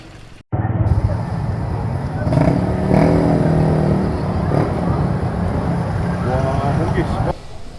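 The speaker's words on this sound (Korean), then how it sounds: "와 여기 오토바이 왜 이리 많냐?" Motorbike and car engines rev and pass by on a busy street in Cebu, Philippines, the drone rising and falling amid background voices.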